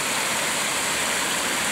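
A waterfall in a Japanese garden, a steady broadband rush of falling water that stays even and fairly close, with no voices over it.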